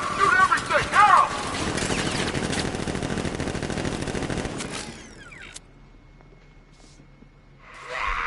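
Rapid automatic gunfire in Batman: Arkham Knight: a dense, loud rattle of shots for several seconds, with a voice shouting over it near the start, then the firing cuts off into quieter game ambience.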